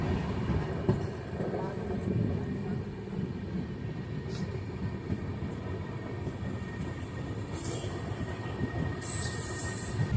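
Kamayani Express train running at night, heard from the gap between two coaches: a loud, continuous rumbling clatter of wheels on track with steady roar, sharp high squeals of wheels near the end, and no talking.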